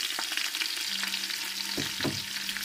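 Steady crackling sizzle of green garlic and green chillies frying in a pan, with a few scraping stirs near the end; no voices.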